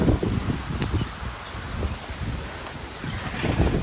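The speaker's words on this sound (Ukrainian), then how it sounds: "вітер такий піднявся" Steady rustling of fruit tree leaves in gusting wind in a Chinese village, with low rumbling wind buffeting the microphone throughout.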